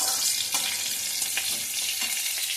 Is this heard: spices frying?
yes